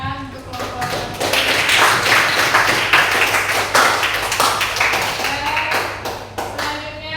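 A classroom group claps for group 1 after a presentation, a dense patter of hand claps and taps that swells and fades over several seconds, with voices murmuring underneath.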